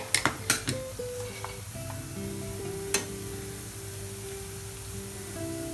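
Madura seva dough frying in oil in a flat pan, with a steady close sizzle and a few sharp utensil clinks against the pan near the start.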